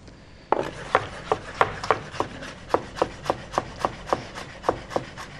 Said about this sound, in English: A little bit of garlic cloves here. We just finely chop that up.